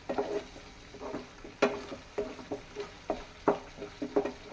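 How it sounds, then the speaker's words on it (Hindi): Chole masala gravy is roasted in a pan, with a gentle frying sizzle beneath repeated soft scrapes and taps of a spoon stirring in an uneven rhythm, close and quiet, with no talk. "अब इसको धीरे धीरे करके थोड़ा सा और भूनना"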